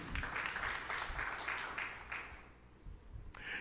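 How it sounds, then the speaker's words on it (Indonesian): A congregation at a church sermon applauds in a dense, fairly faint burst of clapping that fades after a few seconds, then picks up briefly at the end. "Tepuk tangan yang meriah untuk kemuliaan Tuhan."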